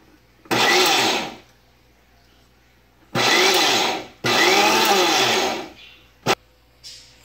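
A kitchen mixer grinder pulsing mango chutney ingredients into a coarse crush, with three loud whirring bursts of one to two seconds each and quiet gaps between, plus a short final blip.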